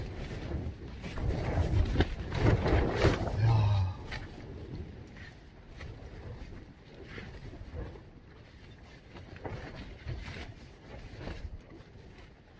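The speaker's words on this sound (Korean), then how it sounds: "바람이 엄청납니다." Strong wind buffeting on Unjang Mountain, with heavy gusting rumble and blustery noise strongest in the first few seconds, then settling to a steadier, softer roar.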